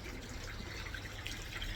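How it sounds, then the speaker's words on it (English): A return pipe splashes water into a 4,500-litre garden pond, a steady close trickling and spattering with small bright drips throughout. "That return pipe still splashes in."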